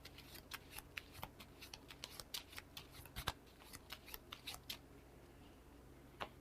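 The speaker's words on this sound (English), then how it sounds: "Okay, so we shuffle everything up." Board game cards are shuffled, giving a quick series of crisp riffles and snaps close by, very quiet, with no talk over them.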